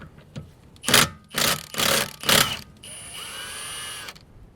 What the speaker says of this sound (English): And I got a nice Milwaukee impact drill